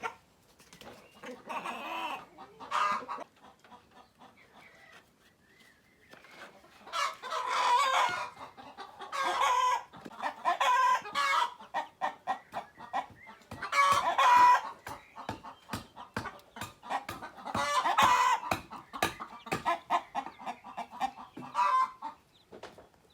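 Chickens cluck repeatedly near a backyard coop with newly hatched chicks, and a rooster crows in several long bursts between the clucking, fairly close and loud with no talk over it.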